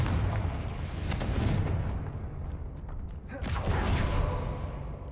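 Explosions from the Confringo fire spell in Hogwarts Legacy, two heavy booming blasts a few seconds apart with rumbling tails over constant game ambience.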